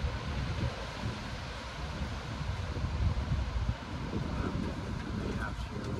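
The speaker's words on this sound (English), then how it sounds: "The wind is very angry right now" Strong outdoor wind roars and buffets the microphone in a continuous broadband rush, loud and close, with a voice faintly talking underneath.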